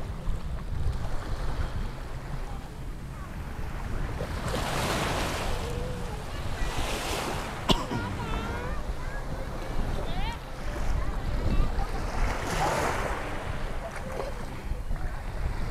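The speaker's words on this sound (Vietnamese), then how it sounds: "Thì các bạn ngày hôm nay sóng êm lắm," Calm sea waves at Cần Giờ beach wash in soft repeated surges against steady wind and microphone buffeting, with a boat-like rumble underneath and occasional voices.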